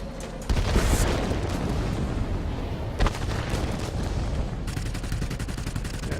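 Bombs dropped from an RB-17 premium bomber in a combat video game burst into a continuous rumbling barrage, with a sharp louder blast partway through and a crackling tail of further detonations.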